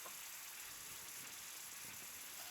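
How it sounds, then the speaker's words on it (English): Shallots sizzling in a pan for a pasta dish, a steady dense hiss of frying that stays even and alone with no voices. "So we're gonna put in our shallots. Here a little bit of a sizzle"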